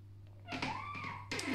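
A calm pet cat named Ralph gives a single drawn-out, rising-and-falling meow, close and fairly soft, over a faint steady hum, with a brief rustle at the end.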